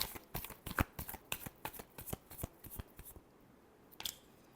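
Tarot cards being shuffled by hand, a quick run of crisp riffling snaps up close that ends in a final soft flick.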